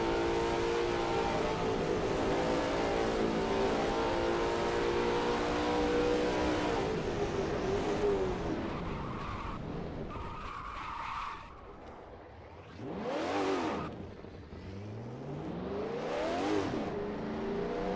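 Lola T70 MkII Spyder race car in a racing video game at Riverside Short, engine droning loud and steady, then tires squealing and skidding through the S-curves as revs rise and fall in sweeping passes.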